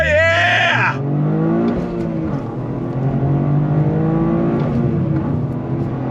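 A 2024 Toyota GR Corolla, all-wheel drive with a manual clutch, pulls away hard from a standstill, its engine note climbing steadily and loud from inside the cabin after a brief opening burst of a higher tone.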